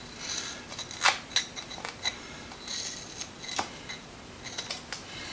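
Small Fiskars scissors snip in quick, crisp clicks, irregular and close, against a quiet background hum.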